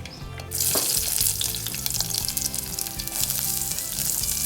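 Shallots, ginger and green chilli sizzle in hot oil in a pan, a loud, steady frying hiss that flares up sharply after a brief quieter start and stays close and continuous.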